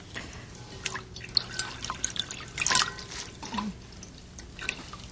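Cooked somen noodles are rinsed and rubbed by hand in cold water, giving close, irregular splashing, dripping and sloshing with a brief louder burst of water midway.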